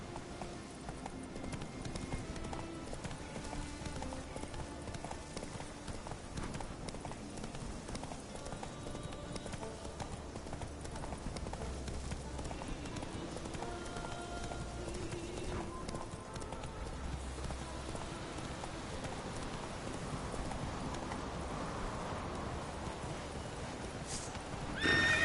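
Roach, the horse in The Witcher 3, gallops and neighs over a continuous, dense wash of game ambience, the hoofbeats blurred into a steady rumble with no clear pauses.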